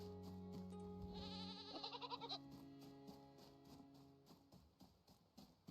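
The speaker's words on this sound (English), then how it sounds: "Oh, I hear a goat." A goat bleats repeatedly in a farming video game, a few wavering cries near the start followed by soft clip-clop footsteps and background game music.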